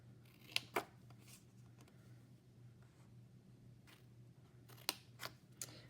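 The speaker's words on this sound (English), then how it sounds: "And we're going to cut on the lines." Scissors snip through paper card along printed lines at close range, a few sharp separate cuts spread across a quiet desk scene with a low steady hum underneath.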